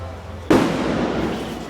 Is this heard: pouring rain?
no